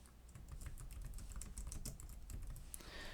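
Steady typing on a computer keyboard, a fast stream of close, crisp key clicks with no voices, ending in a slightly heavier burst of keystrokes.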